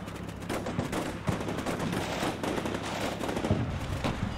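Artillery fire for effect in the combat video game Combat Mission: Shock Force US Cityfight, a dense, continuous barrage of overlapping blasts and rattling impacts with no pause.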